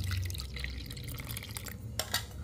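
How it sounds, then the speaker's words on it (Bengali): Milk is poured into a bowl for malpua batter, a soft liquid trickle and splash close by, fairly quiet and brief. "3 বাটি দুধ নেব। 1 বাটি দিয়ে 2 বাটি একসঙ্গে দিয়ে দিই।"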